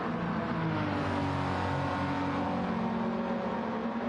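A Toyota Supra in Gran Turismo 7 revs with a deep, baritone engine tone, sustained loud and steady throughout without any talk.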